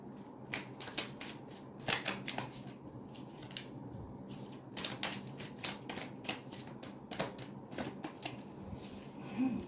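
Rapid riffling bursts of a card deck being shuffled, repeated several times in close succession with brief pauses between, near and crisp.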